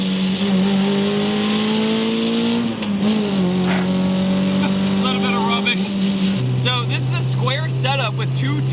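A naturally aspirated K24 four-cylinder swapped into a Mazda Miata drones steadily as it pulls uphill in 5th gear, a low engine tone shifting pitch partway through, with a voice talking over it throughout.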